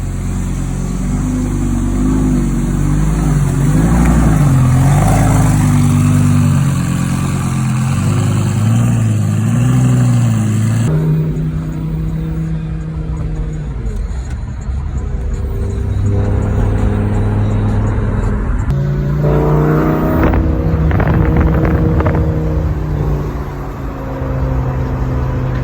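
A Lamborghini engine starting up for the first time and settling into a steady idle, a loud continuous rumble with rev changes partway through and no talking.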